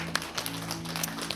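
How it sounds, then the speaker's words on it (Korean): A church congregation claps together to glorify God, a brief burst of scattered applause over a low, steady hum. "우리 하나님께 큰 영광의 박수 올려드리겠습니다"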